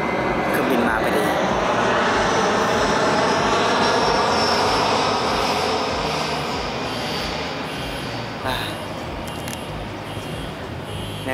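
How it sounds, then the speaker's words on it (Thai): An airplane flies over an outdoor opening event of a national sports games, its engine producing a loud broad roar that holds steady and slowly fades as people talk nearby. "เครื่องบินมาพอดี"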